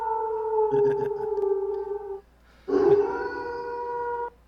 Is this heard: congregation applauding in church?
no